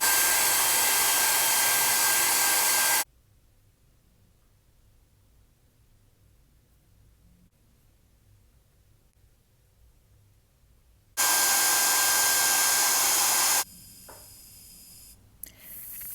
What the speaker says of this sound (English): I'm just gonna move along my hairline with my spray and my blow dryer